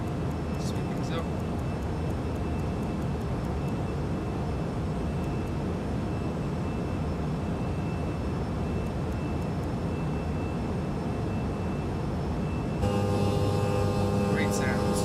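Steady whining drone of Embraer E175 jet engines in a flight simulator, continuous and even throughout, with faint clicks and a brief change in tone near the end.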